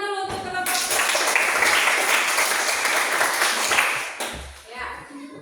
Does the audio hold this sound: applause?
yes